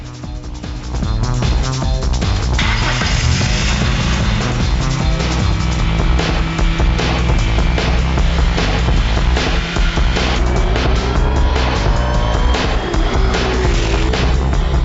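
Road and race cars being tested on a track for Gran Turismo 2 sound recording, a loud, steady engine roar that rises and shifts in pitch throughout, with hints of tire squeal, and no talking.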